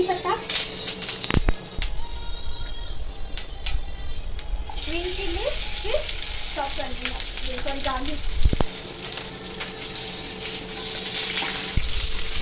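Cumin seeds frying in hot oil for kadhi pakoda, a steady close sizzle running throughout, with brief clinks and soft voices in the background.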